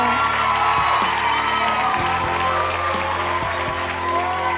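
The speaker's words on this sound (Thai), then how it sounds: "ขอเสียงปรบมือดังๆ ให้กับคุณปาอีกครั้งหนึ่งครับ" A studio audience claps during a Voice Thailand battle-round broadcast, the applause steady and fairly loud over sustained low music chords, with a few scattered cheers rising from the crowd.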